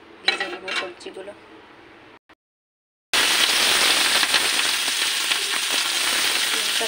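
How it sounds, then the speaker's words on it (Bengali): Vegetables for fried rice fry in very hot oil in a kadai, a loud steady hiss and crackle that bursts in after a short silence and holds to the end, with pan clatter before it. "এটাকে কড়ার মধ্যে তেল গরম হয়ে গেছে, ভেজে নেব সবজিগুলো।"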